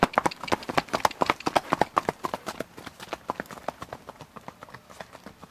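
Icelandic horse hoofbeats on frozen ground, a brisk steady clip-clop of many close, sharp strikes in a quick rhythm throughout, with no talk.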